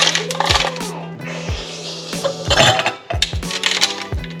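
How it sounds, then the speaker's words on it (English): Ice cubes dropped into a glass while a grapefruit soju and watermelon juice cocktail is made at home, a string of close, hard clinks and knocks at an uneven pace over a steady background hum. "And then we're going to put some ice."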